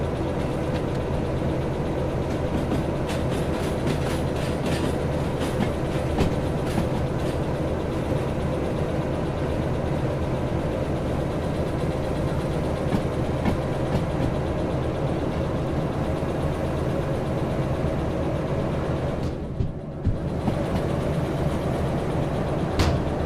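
Train engine in a train simulator video game runs as a steady low diesel rumble and drone that holds level throughout, with a brief dip near the end and no talking.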